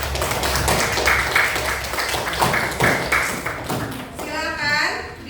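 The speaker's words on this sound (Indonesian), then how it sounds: "Beri tepuk tangan untuk ketiga perwakilan tiap kelompok." Classroom students clap for three group representatives during a lesson, a dense patter of hand claps with thuds and taps that runs nearly steadily, mixed with voices and room noise.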